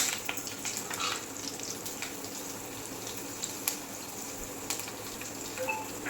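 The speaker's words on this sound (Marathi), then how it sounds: "त्यामध्ये आपण तेल टाकून घेतलेलं आहे, त्याच्यामध्ये जिरा टाकू," Cumin seeds and curry leaves sizzle in hot oil for a soya chunks curry, a steady crackling fry with small pops, close by and fairly quiet, with no voices.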